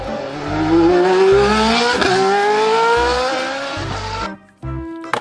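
A toy F1 race car gives off a loud electronic engine whine that climbs steadily in pitch like revving, then cuts off abruptly and leaves brief faint tones.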